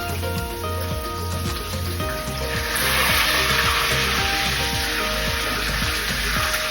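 Meat sears in a hot pan while it is flipped, a steady crackling sizzle that swells louder partway through, with faint music running underneath.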